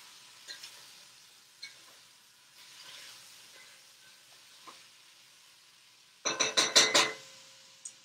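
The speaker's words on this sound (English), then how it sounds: "Give it a little stir." Spoon stirring cream through a sizzling pan of chicken for a Dijon tarragon sauce, soft scraping and faint sizzle followed by a closer burst of rapid clinks against the pan.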